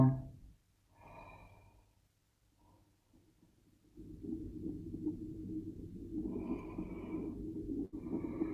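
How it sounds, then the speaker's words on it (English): A deep, slow yawn with breathy exhale during a seated stretching session, quiet and close, followed by soft rustling and breathing. "Yawn."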